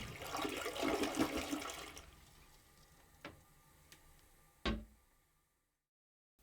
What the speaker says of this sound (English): Flush the toilet and check that the water drains out of the toilet bowl quickly